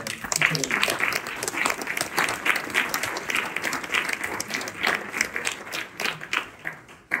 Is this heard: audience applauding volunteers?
yes